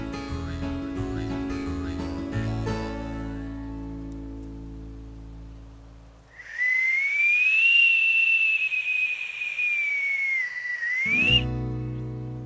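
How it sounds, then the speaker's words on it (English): A whistle made from slipped tulip poplar bark is blown in one long, loud, steady tone that wavers slightly in pitch, coming after a stretch of other background sound. "I got the bark to slip to make this whistle"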